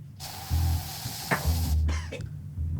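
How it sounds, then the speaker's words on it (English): A short aerosol spray is squirted into a mouth aboard the Margaritaville Islander cruise ship: a close, loud hiss lasting over a second, followed by a second, briefer burst and faint shuffling. "Spray that in my mouth."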